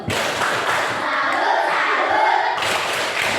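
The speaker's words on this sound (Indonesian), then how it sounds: "Tepuk salut." A school class performs a rhythmic salute clap together, loud crowded bursts of hand claps and thumps with some shouting voices, a short pause, then another burst.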